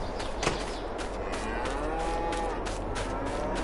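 Brown Swiss cows mooing in the Farming Simulator 22 game, several low drawn-out calls overlapping across a steady background of ambient farm noise, no talking.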